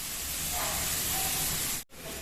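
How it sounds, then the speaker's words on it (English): Loud, steady sizzling and hissing of vegetables being stir-fried in a hot pan for hakka noodles, with a brief cut near the end. "Now add the vegetables and keep on stir frying them continuously."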